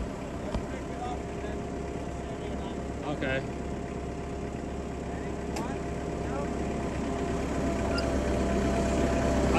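A tractor engine runs steadily at a timber frame porch raising, a constant low drone under people talking nearby.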